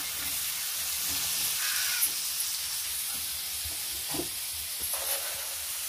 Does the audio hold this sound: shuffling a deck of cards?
no